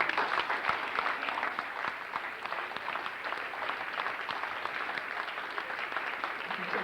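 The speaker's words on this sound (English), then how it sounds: "I think he deserves a big round of applause." Guests at a high school freshman football awards banquet applaud a coach, with continuous, even clapping from a mid-sized crowd lasting about seven seconds, heard from some distance in a room.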